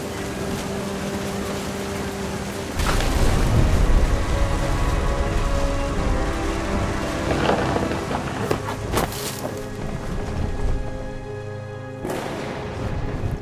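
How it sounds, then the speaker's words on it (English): Heavy rain pours steadily with a low rumble of thunder in What Remains of Edith Finch, a dense wash of sound that surges louder after a few seconds, with scattered sharper cracks and no voices. "thunder sounded much too close and full of angry power"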